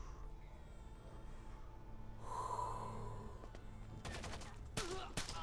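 Gunfire in the video game Rainbow Six Vegas: a quiet stretch followed by several sharp, close shots in quick bursts near the end, with some breathy noise in between.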